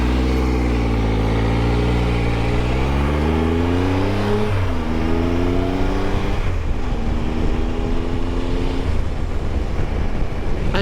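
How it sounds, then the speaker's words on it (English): Steady engine drone with rising, shifting harmonics as a Triumph Tiger 1200 XC motorcycle with an Arrow exhaust gathers speed, fairly loud and continuous with wind buffeting, a fairly subdued exhaust note. "there isn't a lot of sound from the Arrow exhaust"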